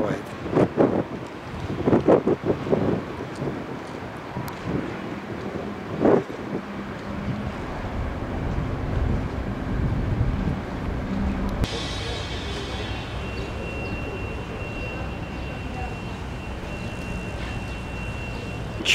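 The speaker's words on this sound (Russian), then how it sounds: "Ветер сдувает." Wind buffeting the microphone in gusty rumbles with steady background noise near yachts on the water in Tarragona, a few louder thumps early on, and a voice speaking briefly.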